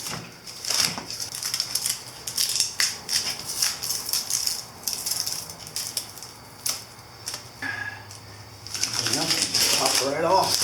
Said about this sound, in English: let's get the tape off and see what it looks like